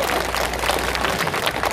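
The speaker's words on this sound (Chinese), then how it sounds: "来，掌声来一下，龙叔下来了。" A crowd at an outdoor evening community concert in Yangmei claps steadily for nearly two seconds, the dense applause sustained without any clear break.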